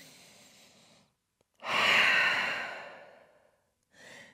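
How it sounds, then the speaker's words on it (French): Deep breathing in a downward dog yoga pose: a soft breath, a pause, then one long, loud, airy exhale that slowly fades, with another soft breath starting at the end. "Grande respiration en chien tête en bas"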